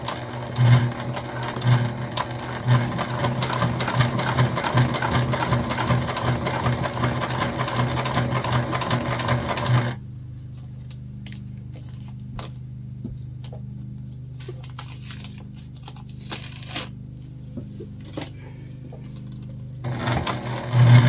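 A sewing machine stitches a Piper ID holder: rapid, rhythmic needle clatter runs loudly for about ten seconds, then slows to sparse taps and a quiet motor hum before the fast stitching briefly resumes.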